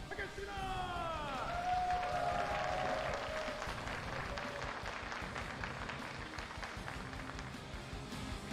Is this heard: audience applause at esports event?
yes